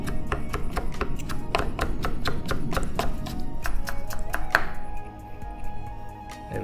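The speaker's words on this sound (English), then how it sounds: "And we cut it down the length of the ginger." A knife chops lengthwise through peeled, thinly sliced ginger on a cutting board for Cantonese white phoenix claws, giving a steady run of sharp, close taps that thin out near the end.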